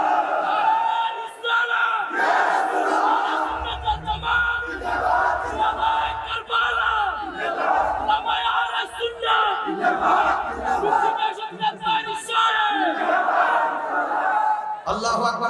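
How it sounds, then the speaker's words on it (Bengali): A large crowd at a religious sermon gathering loudly chants the slogan Allahu Akbar in unison, with repeated surging shouts under and between a preacher's amplified voice. "আল্লাহু আকবার জোরে বলেন।"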